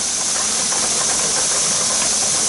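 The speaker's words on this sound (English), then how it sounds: "Steam's coming out of there pretty good." Steam vents hard and steady from a pressure canner cooking chicken bone broth, a loud, continuous full-bodied hiss with no talking.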